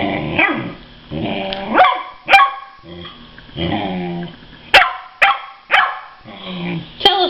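Several dogs bark, yip and growl in loud, close bursts while squabbling over a toy, with tussling noises between the outbursts.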